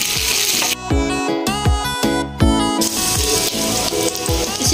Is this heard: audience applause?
no